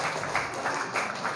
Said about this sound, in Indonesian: Tepuk tangan dulu untuk kelompok Putri.